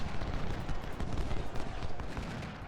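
Cannon and musket fire from the Ultimate General: Civil War video game, a dense, continuous crackle of volleys and booms rolling on without pause at steady loudness.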